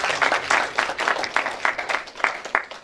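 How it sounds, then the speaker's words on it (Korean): A crowd applauds a colonel at a gathering during a former lawmaker's visit to Philadelphia, with dense, steady clapping that keeps going throughout, fairly close and lively. "우리 다시 한번 그랜 뉴셴 대령께 큰 박수 부탁드리겠습니다."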